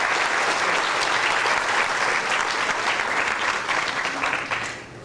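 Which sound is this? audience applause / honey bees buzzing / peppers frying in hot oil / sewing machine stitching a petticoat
audience applause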